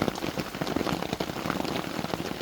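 Steady rain patters on surfaces at a Cypress Creek Preserve campground, a dense, continuous hiss with close drops ticking on gear and a picnic table, with no voices.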